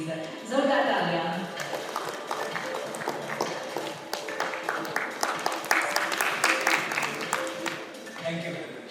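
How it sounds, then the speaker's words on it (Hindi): An audience at a heart-health talk gives a sustained round of applause in an indoor hall, the clapping steady and moderately loud with some voices mixed in. "जोरदार तालियां।"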